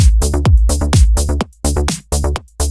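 A plucky, filter-enveloped synth bass locks in with a punchy kick-and-percussion groove in a melodic house track built in Cubase, loud and steady with short gaps between phrases.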